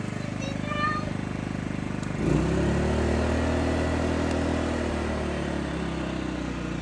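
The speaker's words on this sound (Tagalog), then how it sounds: "Dali lang talagang buhayin ng ating Philippine generator na to" A PK2300i inverter silent generator, started by recoil pull, runs at a steady mid-pitched hum that shifts to a slightly different engine note partway through, close and continuous.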